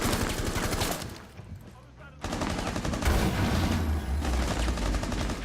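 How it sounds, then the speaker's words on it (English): Video game gunfire, dense bursts of shots with a brief lull before heavier firing resumes, close and loud, with a voice talking faintly underneath. "I'm being shot at here."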